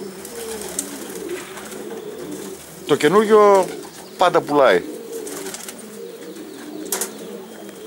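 Outzidika pigeons from Karditsa, Greece, give soft low cooing throughout, with two louder bursts of wing flapping or fluttering in the middle, while someone talks over the birds.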